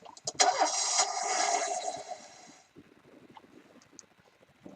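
A car engine cranks and catches with a loud burst in the police-management game This Is the Police, then drops away to a faint idle rumble with scattered small noises.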